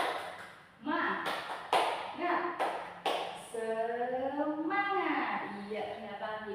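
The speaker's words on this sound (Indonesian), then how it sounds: "Tepuk semangat." Schoolchildren in a classroom do a patterned spirit clap, sharp group claps in a rhythmic sequence, then the class chants together loudly.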